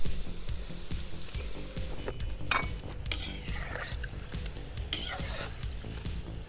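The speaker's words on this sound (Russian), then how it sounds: "А теперь пожарим просто картофель." Thin potato slices for homemade crisps fry in hot oil in a pan, a steady close sizzle broken by repeated scraping stirs and a few sharp metallic clinks of utensil against pan, with no voices.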